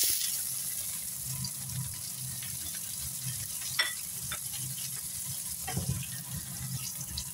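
Garlic and onion sautéing in a pan for labong adobo, a steady close sizzle throughout with occasional stirring scrapes and clicks.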